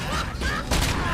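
Gunfire in the RoboCop video game, a quick burst of heavy shots within about a second, loud and close, while a voice talks over it.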